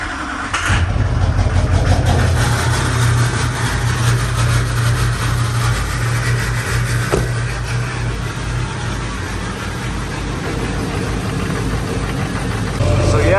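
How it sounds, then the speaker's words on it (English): A Duramax diesel engine in a single cab truck build, sitting unused for a while and with its fuel lines recently disconnected, cranks and catches within the first second, then settles into a loud, steady rumbling idle up close. "I'll let the glow plug cycle a couple times maybe. Been sitting for a while. And see if it starts."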